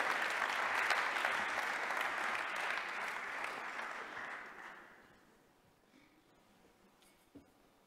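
Applause from an awards ceremony audience greeting the mayor, a dense steady clapping that fades out over about five seconds, leaving near-quiet with one faint knock near the end.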